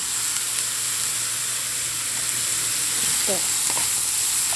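Broccoli, eggplant and cucumber sizzle and hiss in a hot pan, a steady bright frying noise throughout, with brief utensil scrapes and a short spoken word near the end.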